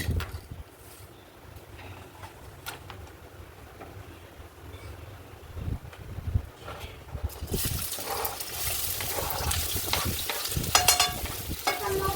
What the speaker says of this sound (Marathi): कढईमध्ये तेल टाकून ना कांदा परतायला टाकायचा आहे